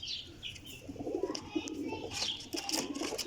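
A female Teddy pigeon coos softly nearby in short low murmurs, mixed with light chirping and background rustle over a few seconds.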